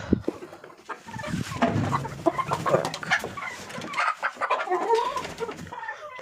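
Chickens clucking, including Chinese silkie chickens, a flock giving busy overlapping clucks and short calls at close range, alone without talk.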